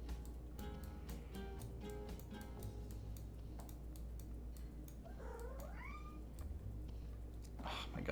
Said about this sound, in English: Can you guys hear him just like meowing over there?